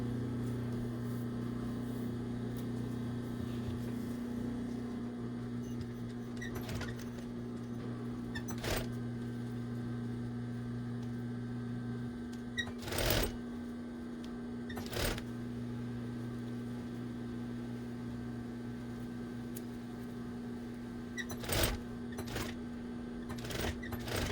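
A sewing machine stitching across elastic runs with a steady low hum, and sharp mechanical clicks and thumps come at irregular intervals.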